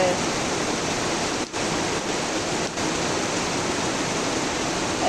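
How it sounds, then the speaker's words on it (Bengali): Heavy monsoon rain pours down in a dense, even roar of falling water, loud and continuous throughout, with only brief dips in the hiss. "গুড়ি গুড়ি বৃষ্টি না, একদম মুষলধারে বৃষ্টি, শুধু পানি আর পানি পড়তেছে"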